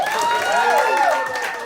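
A crowd applauds a performer at a live music show, with brief clapping blended with rising and falling whoops and cheers, fairly loud throughout.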